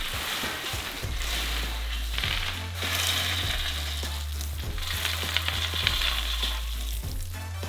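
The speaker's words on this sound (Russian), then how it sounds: "Обжаренный арахис высыпаем на противоположную часть стола" Roasted peanuts are poured out onto a table in a steady rattling rush, with a repeating low mechanical hum pulsing underneath.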